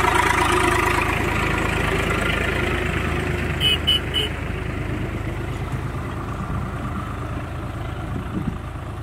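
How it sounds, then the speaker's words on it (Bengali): A diesel tractor carrying a rice load on a muddy field track runs steadily at close range, then pulls away. The low engine rumble holds even and continuous, with a faint rattle partway through. No voices are heard. "তো ট্রাক্টরটা এখন যাচ্ছে।"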